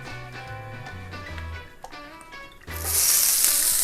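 Philly cheese steak meat frying in a skillet, a low sizzle under kitchen clatter and tonal background sound, swelling into a loud, bright hiss near the end.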